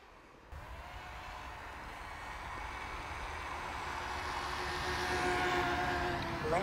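A DJI Mini 2 drone comes in to land, its steady propeller whine and broadband rush growing gradually louder and closer across the clip, with a faint rising tone toward the end.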